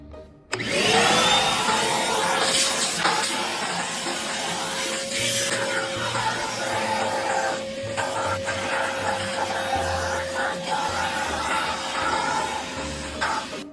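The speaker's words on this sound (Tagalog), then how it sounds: "pinagbabacuum ko na nga pala yung nasa likod ng sasakyan" A vacuum cleaner runs continuously with a steady high whine and airy rush while cleaning the rear interior of a car at a car wash, its tone wavering slightly as the nozzle moves.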